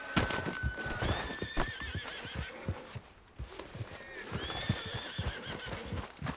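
Horses in Red Dead Redemption 2 neigh and whinny repeatedly, with a few clip-clopping hoof steps between the shrill calls, loud and close throughout.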